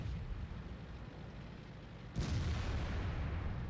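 An M7 medium tank in World of Tanks fires a single sudden boom that cuts through a constant rumbling battlefield background and then rolls on.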